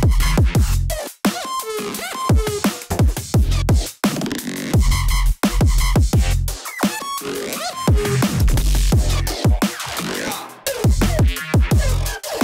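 Electronic music remix playing loud and continuous, with punchy beats, dense layered synths and sharp rhythmic cuts throughout, no talking.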